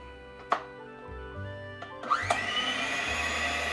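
An inexpensive 7-speed hand mixer with whisk attachment whirring close by, with a couple of clicks as it starts, then a steady rising motor hum that runs to the end.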